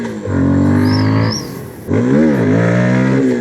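A Voge FR150 motorcycle fitted with a Tuneboss ECU revs hard and loud up close, climbing in pitch, dropping briefly on a gear change, then pulling up again in second gear.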